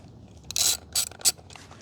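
An 8mm socket on a ratchet loosens a bolt during a chain and sprocket replacement, giving three short, close clicking bursts with brief gaps between them.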